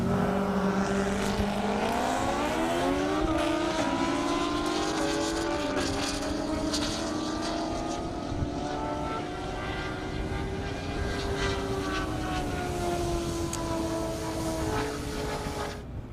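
A ZX14 motorcycle and a Corvette launch together at the start of a half-mile airport drag race, engines roaring loud and near with pitch climbing steadily as they pull away, a sustained blended howl over constant background noise.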